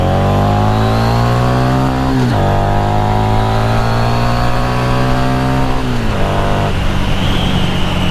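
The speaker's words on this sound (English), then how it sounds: "once you get to a straight, pull that sucker open, man." A Harley-Davidson XG500 motorcycle engine revs hard and loud at full throttle, pitch climbing steadily through a gear, dropping briefly at a shift near two seconds and again near six before rising once more, with no talk.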